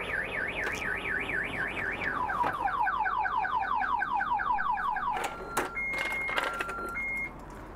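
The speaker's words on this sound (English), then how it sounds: "I set the alarm earlier and as soon as we open the door, it set it off." A Newmar Essex 4578 bunk-model motorhome's alarm blares after its door is opened, loud and close: a rapidly warbling siren, then a series of fast descending sweeps, ending in sharp chirps and beeps with no one talking.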